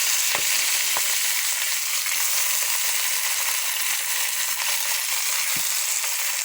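Oil sizzles hard in a kadai, a dense unbroken hiss filling the whole stretch, with a few faint isolated clicks from a utensil and no speech.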